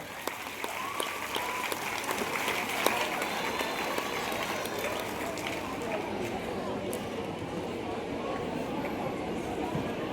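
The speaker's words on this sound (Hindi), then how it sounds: "जोरदार तालियां इन बच्चों के लिए बजाएं" Clapping from a gathered audience of children and soldiers at a road safety event in an army cantonment, a fairly faint, even patter that continues for several seconds, with voices mixed in.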